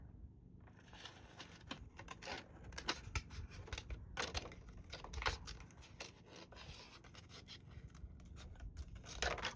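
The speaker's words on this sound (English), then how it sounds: "I'm going to kind of cut it like this." Scissors snip through paper craft material for a Halloween project, giving a steady run of close, crisp cutting strokes and rustles with no talking.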